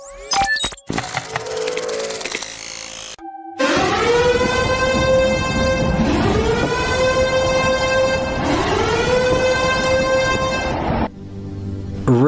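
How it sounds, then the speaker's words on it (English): A storm siren wails, rising and falling in long repeated sweeps, loud and steady, following a brief burst of other noise at the start. "At the beginning of the clip, we hear the storm siren go off."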